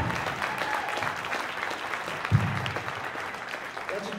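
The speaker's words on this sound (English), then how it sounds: "Give them another round of applause." An audience applauds the Providence College Jazz Ensemble with sustained steady clapping at moderate volume, one brief thump partway through, tapering slightly near the end.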